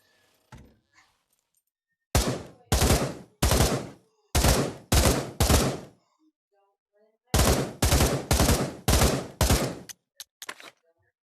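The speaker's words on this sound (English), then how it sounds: "I'm gonna try the Uzi next." An Uzi submachine gun fires in the Pavlov Shack VR shooting range, with two loud volleys of five or six rapid bursts each, separated by a quiet pause, and a few light clicks before and after.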